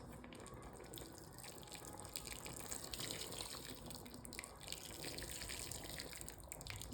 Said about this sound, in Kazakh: Қайнаған су құямыз.